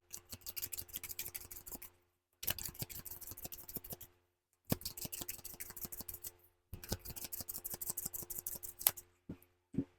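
Tarot cards are shuffled in four quick bursts of crisp, rapid flicking clicks, each lasting about two seconds with short silent pauses between, close and quiet with no voices.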